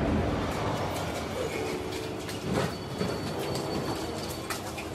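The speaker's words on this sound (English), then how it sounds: "I'm happy because the train is on here" A train pulling into a station in Germany, rumbling and rolling steadily with squealing wheels and metallic tones, close by, while birds call faintly around it.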